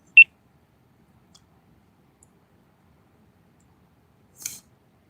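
A GoPro camera gives one short, high electronic beep, then a brief buzzy chirp a few seconds later, both quiet against near silence.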